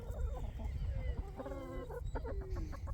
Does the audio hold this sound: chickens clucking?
yes